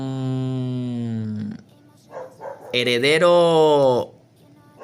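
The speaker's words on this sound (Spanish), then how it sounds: "no para de ladrar, bro, no para de ladrar" A pet dog barks and yips in the background at home, with harmonic bark bursts at the start and again near the middle, heard under a voice during a Mutants Genetic Gladiators game session.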